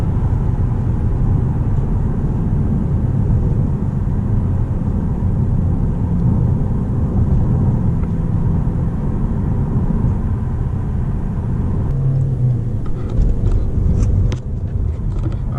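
A Lexus GS 200t turbocharged engine pulls hard under acceleration, a steady loud low rumble of engine and road noise heard from inside the car throughout, with faint clicks and higher tones near the end.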